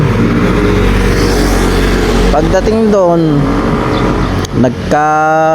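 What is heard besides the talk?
motorcycles racing past on the road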